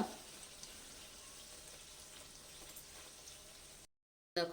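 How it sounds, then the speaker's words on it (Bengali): Stuffed potato paratha frying in oil, a soft continuous sizzle and fine bubbling at moderate level, with a short silent gap near the end before a brief louder burst. "একটু সময় নিয়ে ভাজতে হবে যেহেতু পুর ভরা আছে"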